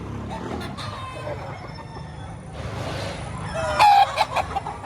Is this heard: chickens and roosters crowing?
yes